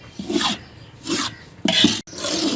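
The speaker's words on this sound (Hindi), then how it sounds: "मुसलसल हिलाते रहना है इसे" Flour is stirred and scraped around a pan as it roasts over a low flame for flax seed laddus, making loud close rasping strokes in three or four separate sweeps with short pauses between.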